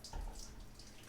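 Coolant poured into the engine bay of a 1965 Chevy Nova wagon with a rebuilt 283 V8, a short watery splash and trickle, fairly close and steady for about a second.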